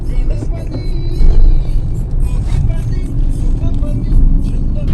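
A car on the road with a low rumbling engine and road noise throughout, close and steady with small surges, while people talk quietly inside.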